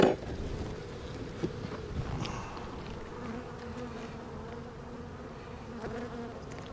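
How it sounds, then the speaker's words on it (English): Honey bees buzz steadily on a frame lifted from a hive, a dense close drone running throughout with a few faint handling knocks. "they got a lot of bees on this one"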